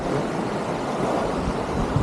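A flowing mountain stream on a Tsum Valley trek, a dense continuous rushing wash of water, loud and steady with no voices.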